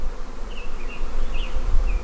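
Honeybees buzz steadily around an open hive in a farm bee yard during colony inspection, a close, continuous hum with individual bees whining past.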